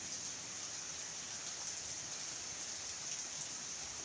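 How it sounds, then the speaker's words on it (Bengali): Rain falls in Nazipur, Naogaon, Bangladesh, in a continuous, even hiss, fairly soft and steady, with no other sounds standing out. "রাত থেকে বৃষ্টি শুরু হয়ে গেছে"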